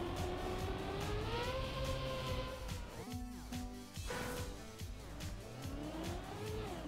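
A race car in Trackmania drifts hard through a turn, engine whining and revving up and down with a squealing tire slide mid-run, steady and close.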